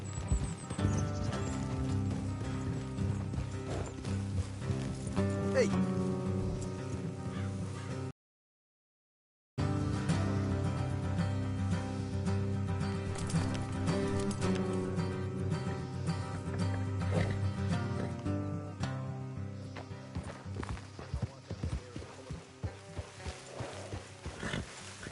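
Horse hooves gallop in Red Dead Redemption 2, a steady clip-clop rhythm buried under a loud, continuous music score, with a brief silent gap partway through.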